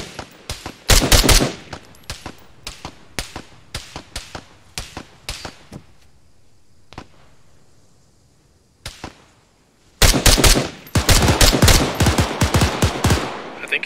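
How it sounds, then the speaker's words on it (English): Rapid bursts of automatic gunfire in the ArmA3 military shooter, loud clustered volleys at the start, scattered shots through a quieter middle, then a dense, sustained barrage returning near the end. "I'm still hearing fire from the left side."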